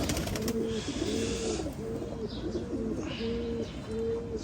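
A Firozpuri pigeon in a Bangladeshi loft coos close by, about six evenly spaced, rolling coos in a steady rhythm, with faint chirps above.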